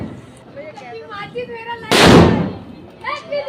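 A Diwali firecracker goes off with a single loud, sharp bang amid people talking nearby.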